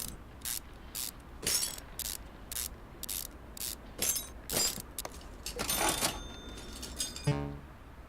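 A brake rotor is unbolted in Car Mechanic Simulator 2015, a run of sharp, clicky ratchet-wrench bursts in a quick, uneven rhythm, close and crisp, ending in a short mechanical clunk.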